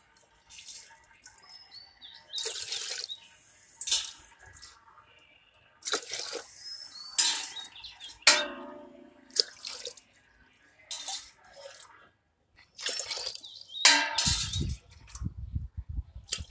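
Water poured into a cooking pot, six tumblers measured out for Aadi ragi koozh (finger millet porridge), in repeated short splashing bursts with pauses between, close and moderately loud, with faint birdsong in the background.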